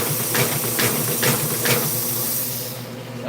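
A shrink wrapping machine runs in a print shop with a loud, steady hissing roar and a few rhythmic mechanical pulses, close and continuous before easing off at the end.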